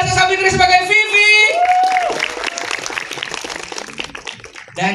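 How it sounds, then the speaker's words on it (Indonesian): An audience at an Indonesian film press screening applauds, with clapping and a few whoops building after a host's amplified voice and continuing as a loose, moderately loud patter to the end. "Beri tepuk tangan yang meriah untuk Alisa Sabitri sebagai Vivi."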